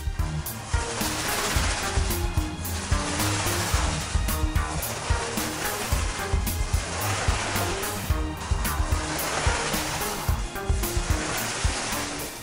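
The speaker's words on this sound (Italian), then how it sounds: "Ora iniziamo la rullatura con un rullo in microfibra pelo raso." A short-pile microfiber paint roller swishes over a wall, a dense, steady, close rolling hiss with soft rhythmic strokes running the whole time and no talking.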